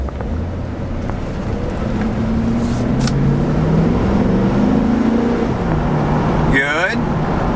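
A 2007 Chevrolet Tahoe LT with 256,000 miles on a test drive, a steady engine drone rising and falling with cabin road noise, broken by a brief clunk near the end.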